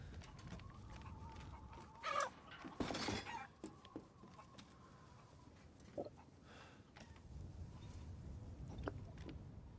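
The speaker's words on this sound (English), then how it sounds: "I hear chickens." Chickens cluck in the video game Resident Evil Village, a few short clucks and calls scattered over steady ambient game noise at moderate loudness, with no talk.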